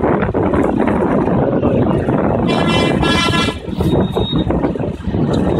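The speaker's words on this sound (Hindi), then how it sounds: "ये देखिए ट्रैक्टर कितना वजन लेके जा रहा है" Mahindra 595 tractor hauling a heavy load of about 400 quintals, a steady loud engine drone with wind buffeting on the microphone and a brief horn-like tone in the middle, with a voice speaking over it.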